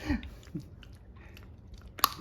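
Basenji dogs crunching treats up close, a few sharp crisp crunches, a loud one near the start and a sharper snap near the end, with faint chewing in between and little talk.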